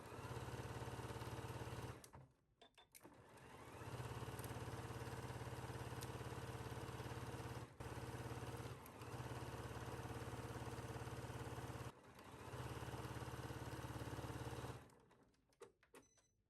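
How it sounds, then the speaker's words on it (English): A home sewing machine runs a steady, fast motor whir while stitching a seam in dressmaking fabric, stopping briefly a few times before starting again; quiet and close, with no voices. "take this to your machine and sew it at 5/8"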